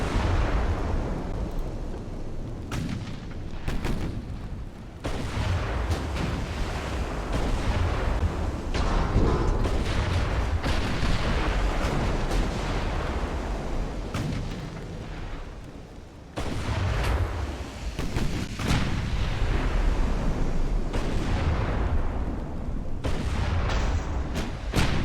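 Battleship guns fire repeatedly in the naval combat game Ultimate Admiral: Dreadnoughts, loud deep booms rolling one after another with dense rumbling blasts and brief lulls throughout.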